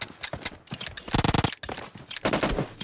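Rapid bursts of automatic gunfire crackle in PUBG Mobile gameplay, several quick volleys packed close together over a few seconds, loud and near.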